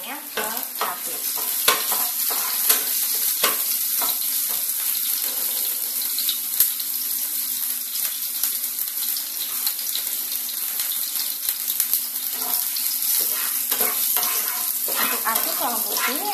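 Garlic frying in a pan for sambal while being stirred, a dense bright sizzle running throughout, punctuated by frequent scraping and tapping of the utensil, close and fairly loud.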